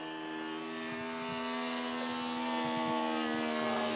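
A Super Stearman model airplane powered by a Saito 170 engine, a steady propeller drone at moderate distance that swells slightly louder toward the end, with faint background noise.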